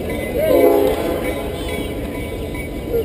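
A train rolling past near Stone Mountain during a memorial service, with a loud rumble, a brief horn blast early on and a steady clatter of cars continuing afterward.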